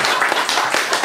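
Audience applause for the performers of Project Adorno at a live poetry event, a brisk burst of clapping from a small crowd, close and fairly even, fading slightly toward the end.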